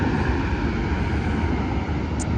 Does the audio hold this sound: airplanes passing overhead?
yes